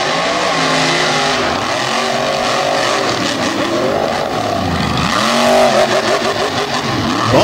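Mega truck Lil Faker roaring at the Thunder in the Valley race event, engine revving hard with rising and falling pitch sweeps, loud and close, with repeated throttle surges near the end.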